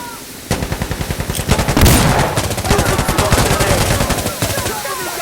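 Rapid automatic gunfire rattles in Insurgency: Sandstorm, a close, loud stream of sustained bursts with a few heavier blasts mixed in, continuing for several seconds.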